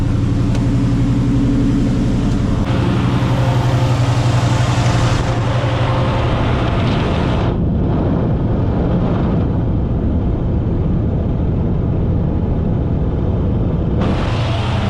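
A big block 454 engine in a Chevrolet C10 truck idles loudly and steadily up close, a deep continuous rumble whose upper hiss drops away midway, with no talking.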